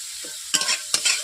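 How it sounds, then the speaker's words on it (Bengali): Spice paste for a Bengali small fish curry of chuno fish being stirred and sautéed in a pan, with two sharp stirring scrapes over a soft frying sizzle, close and brief. "মশলাটাকে আগে কষিয়ে নিচ্ছে।"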